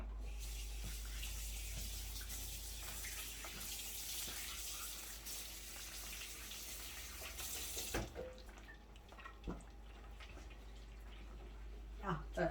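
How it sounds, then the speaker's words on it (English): A kitchen sink faucet runs as fingers are rinsed while cooking, a steady quiet hiss of flowing water that stops partway, followed by faint clinks and handling noises; a person can be heard speaking softly. "I'm gonna rinse my fingers real quick"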